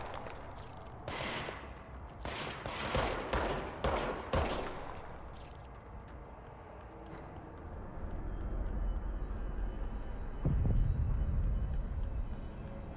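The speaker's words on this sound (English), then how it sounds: "Who's shooting at me? Stop that." Gunfire aimed at the player in the video game Control: a rapid cluster of sharp, loud shots in the first few seconds, then a lingering low rumble and a heavier thud near the end.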